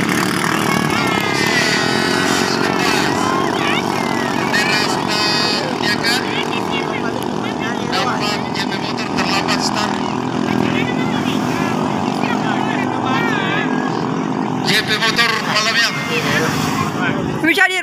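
Loud, droning engines of five racing boats roar continuously, with revving and whining pitch shifts throughout, and excited race commentary running over them.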